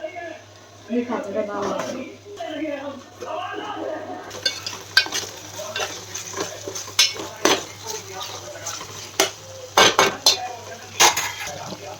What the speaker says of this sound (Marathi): जो गावठी पद्धतीने वाटण केला होता तो आता मिक्स करून घेत आहे